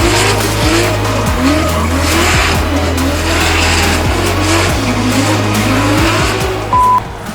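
A D1NZ pro drift car slides through a run, its tires squealing in long repeated sweeps over a loud, steady engine roar, with no voices.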